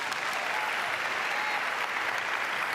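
Church congregation clapping during a sermon, a continuous, even wash of many hands from across a large room, moderately loud and without speech.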